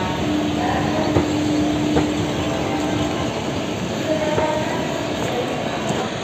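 Passenger train at Lucknow Charbagh railway platform, a steady broadband rumble of rolling rail cars with faint squeals and clicks, continuous and fairly close.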